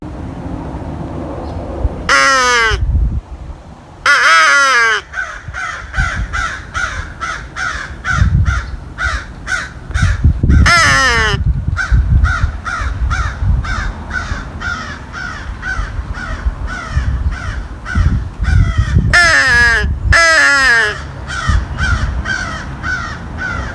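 Crows caw repeatedly in loud rapid series answering a Haydel's crow call, with several bursts of the call itself sounding between the harsh caws outdoors.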